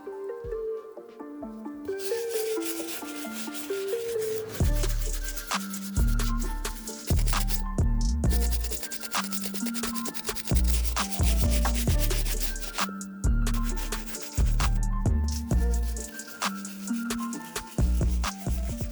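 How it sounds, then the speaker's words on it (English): A medium bristle brush scrubs the uppers and rubber midsoles of Air Jordan 6 Iridescent sneakers, a steady rubbing swish that runs through the whole stretch under prominent background music. "I'm gonna go in with the medium bristle brush just to make sure there's no stains on the uppers"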